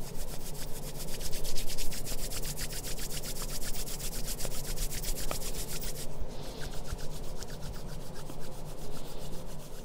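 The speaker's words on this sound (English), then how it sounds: "bring your hands together and then give them a rub" Palms rubbed briskly together during an eye yoga warm-up, a close, continuous dry swishing friction that shifts tone partway through, with no talking.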